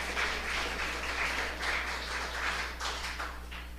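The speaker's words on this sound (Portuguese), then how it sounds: "Pode aplaudir porque Jesus merece." A church congregation applauds in worship, a faint, steady patter of many hands clapping in a room, with no one speaking over it.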